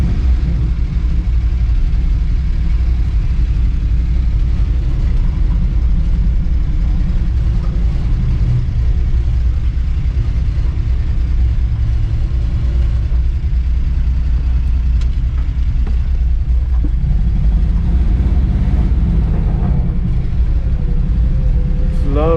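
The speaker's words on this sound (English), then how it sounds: "It's a good running old truck though." An old truck engine idles steadily up close, a continuous low rumble with a loud, dense bottom end that holds for about twenty seconds, with faint sounds passing over it.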